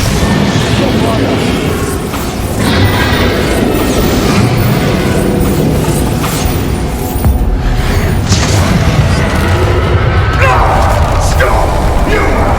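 Spell explosions in the video game Hogwarts Legacy, dense booming blasts and bursts layered over constant loud combat noise, with shouting voices mixed in throughout.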